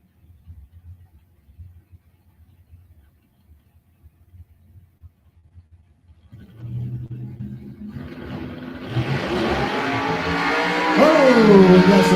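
A 1979 Chevy Camaro at a drag strip starts from a faint low idle and builds into loud, rising engine roar, with a sharp tire or engine squeal near the end.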